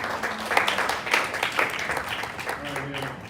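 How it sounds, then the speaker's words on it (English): Audience applause for the panelists at a panel discussion on war and religious freedom, a moderate smattering of claps lasting a few seconds with voices talking over it toward the end. "our panelists deserve a round of applause"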